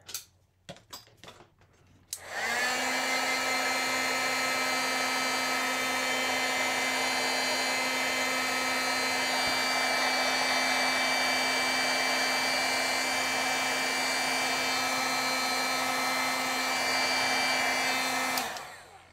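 Electric heat tool blowing steadily to heat-set a stamped craft project, a loud continuous whir with a faint hum that starts after a few soft handling taps and runs unbroken for about sixteen seconds before cutting off.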